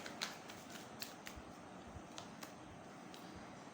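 Tarot cards shuffled quietly by hand, a faint continuous riffling with soft irregular flicks and snaps, close but low in level with no voices.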